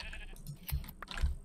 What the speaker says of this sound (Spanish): Mira, aquí hay otra oveja.